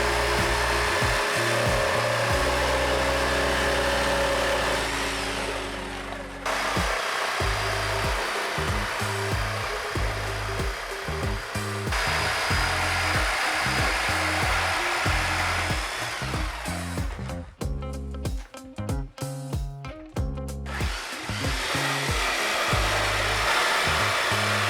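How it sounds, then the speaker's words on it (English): Jigsaw cutting internal openings in a micro workshop build, guided along a straight steel profile; a loud continuous buzzing cut that drops out briefly around a third of the way in, then resumes with choppy, stuttering bursts near the end. "to start cutting the internal openings using a jigsaw"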